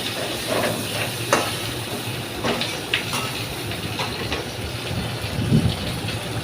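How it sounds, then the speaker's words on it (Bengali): Potatoes and chicken fry together in a pan until browned, giving a steady hiss of sizzling oil with scattered small pops and crackles at moderate loudness. "দেখো, একদম লাল লাল করে আলুটাও ভেজে নিলাম চিকেনের সাথে।"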